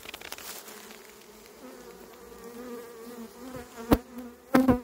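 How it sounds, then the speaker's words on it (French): Honeybees swarm in a crowded single-piece hive packed with comb, giving a dense steady buzz with a few louder passes close by near the end. "Ruche monobloc, complètement bourrée d'abeilles"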